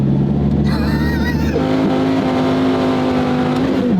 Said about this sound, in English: It's a weird sounding motor. It sounds like a tractor.